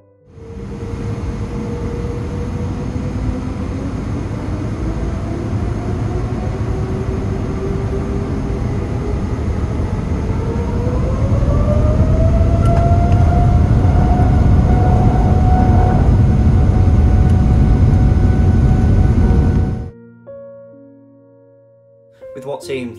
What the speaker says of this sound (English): you can enjoy the fantastic noise of this Boeing 787 spooling up as we depart Bahrain